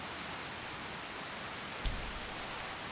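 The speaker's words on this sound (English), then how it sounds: "that rain sound is nasty" Steady video game rain hisses as a dense, even wash of falling drops, with one brief low thump partway through; constant and moderately loud, with no voices.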